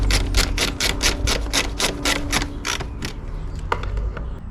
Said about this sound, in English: Refit the cover. And do up the 8 screws.